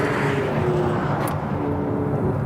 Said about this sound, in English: You can hear the nose scuffing there.